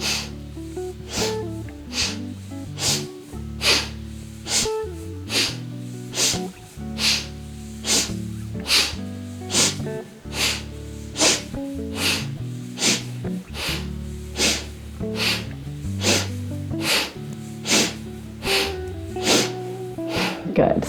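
Sharp, rhythmic sniffing breaths during a morning yoga flow, repeating steadily about once a second over a low musical backing, with the instructor's voice speaking throughout.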